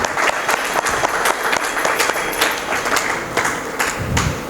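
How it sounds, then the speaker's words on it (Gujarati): Applause from an audience at a Swaminarayan satsang gathering, a dense, steady wash of clapping hands that fills the hall throughout, with a few louder individual claps standing out near the front. "જોરદાર તાળીથી એક વાત ગુરુજીને આપણે બતાવીશું."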